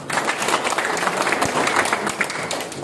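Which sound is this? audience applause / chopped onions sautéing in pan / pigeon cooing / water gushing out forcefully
audience applause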